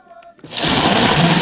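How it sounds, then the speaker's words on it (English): After a brief quiet moment, a kitchen blender whirs into life blending plantain porridge with dates and water, its motor jumping to a loud, steady, buzzing drone that holds to the end. "All right, let's blend away."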